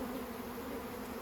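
Honey bees hum around a newly installed hive, a steady, even droning buzz held at moderate level for the whole short moment with no other sounds.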